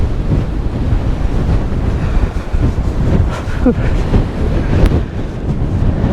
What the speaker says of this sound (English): Oh, that's windy up here.